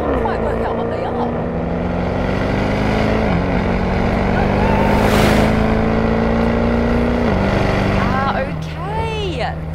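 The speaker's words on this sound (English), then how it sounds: "Those were the new Maserati Trofeos, and they just completely blew us out of the water." New Maserati Trofeo cars drive past loudly, their engine drone climbing and stepping through gear changes, with a strong whooshing pass midway and the engines fading at the end.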